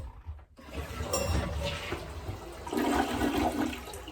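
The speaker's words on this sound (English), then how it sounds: "once I tightened everything down and flushed it" A toilet fitted with a new gasket flushes nearby: a sudden loud rush of water swirls and gurgles down, then a steady refill hiss continues, with no one talking.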